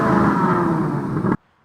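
A 2025 Corvette Z06's 5.5 liter flat plane crank engine roars at high revs, a loud sustained growl held for over a second before cutting off abruptly into silence.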